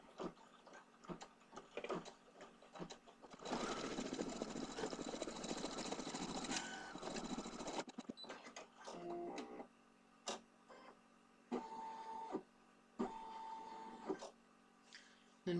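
An embroidery machine runs a zigzag stitch around the shoes and hat brim of a leprechaun design, whirring steadily in a loud burst, then stopping and restarting in shorter runs with rhythmic needle ticking.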